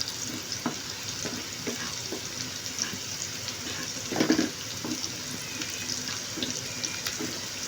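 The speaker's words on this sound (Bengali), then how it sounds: "ঝাল পেঁয়াজটাকে আমরা হালকা গোল্ডেন ব্রাউন করে ভেজে নিচ্ছি" Sliced onions fry in a pan toward golden brown, giving a steady close sizzle with light stirring scrapes and one louder clatter partway through; no one speaks.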